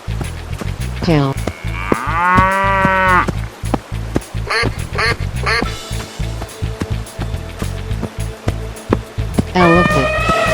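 A cartoon cow gives a long, loud, drawn-out moo over cheerful children's music, then a rhythmic stretch of music and a second moo near the end.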